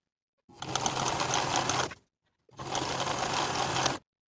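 A sewing machine bastes the raw edges of trouser welt pieces in two steady bursts of rapid, buzzing stitching, each about a second and a half long, separated by a short silent pause.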